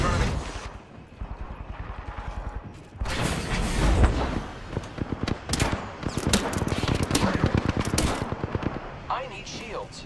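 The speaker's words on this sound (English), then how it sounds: "I am taking fire, friends." Gunfire in the Apex Legends shooter game, with heavy rapid volleys and mechanical clanks building to dense bursts, a few scattered single shots near the end.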